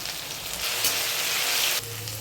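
Potatoes sizzle in hot oil with turmeric and salt in a pan, a close, steady crackling hiss that swells briefly and then drops back, with no talking.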